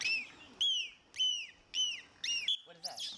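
A captive dolphin mimics a trainer's giggle with a quick series of five bright, rising-and-falling whistled chirps, each about a third of a second long, with short gaps between them, close and clear.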